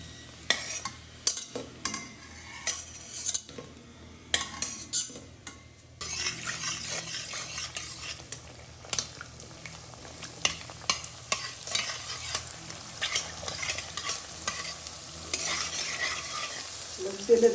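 Fuchka puris fry in oil over a low flame, giving a steady soft sizzle that thickens partway through, punctuated by frequent clicks and scrapes of a utensil stirring in the pan.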